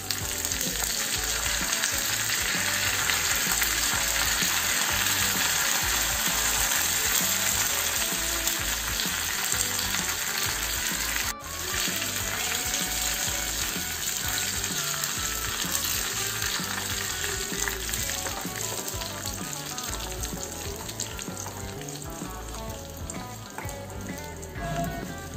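Curry leaves and dried red chillies crackle and sizzle in hot oil as a tempering for North Indian dal, a dense, continuous close-up fry with a brief sharp click partway through, no voices.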